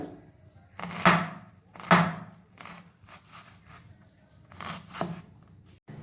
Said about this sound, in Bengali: পেঁয়াজটা কেটে নেব। খুব পাতলা পাতলা কাটতে হবে।